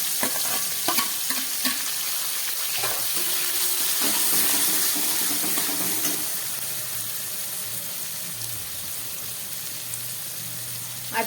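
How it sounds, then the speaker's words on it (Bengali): Chopped onions for a mutton curry fry loudly in a pan, a dense close-up sizzle broken by repeated stirring scrapes early on, then settling into a steadier, quieter hiss. "পেঁয়াজটাকে আমি হাফ ভেজে নেব।"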